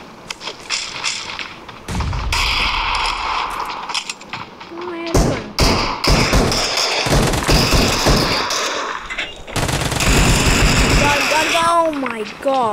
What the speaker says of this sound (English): Oh, someone's shooting. Someone's shooting.